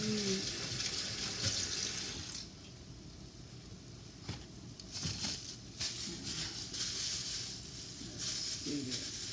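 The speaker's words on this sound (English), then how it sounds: "I'm going to wash my hands" Hands are washed under a running kitchen tap while salmon with crab and spinach is being prepared: a steady close hiss of flowing water with splashing changes as hands move through the stream.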